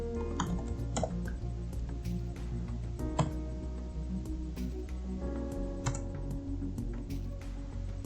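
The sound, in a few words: typing a database command on a computer keyboard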